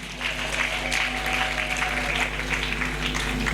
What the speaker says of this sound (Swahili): Piga makofi, Mungu asikie makofi.